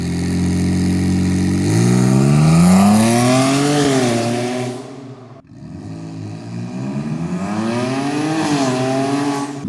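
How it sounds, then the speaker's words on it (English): A single-turbo Kia Stinger engine revving on a dyno, rising and falling in two long pulls with a brief cut between them, loud and close with harmonic whine and no talking. "So it's only revving like 56 600 right now."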